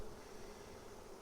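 Honey bees fanning heavily at a less crowded hive, a steady low buzzing drone holding at an even level throughout.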